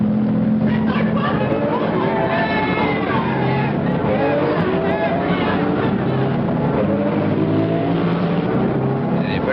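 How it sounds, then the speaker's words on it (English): A bus drives past in an old film scene, with a loud rolling motor and road noise continuing throughout, mixed with voices and crowd chatter in the background. "Hey, there goes our bus."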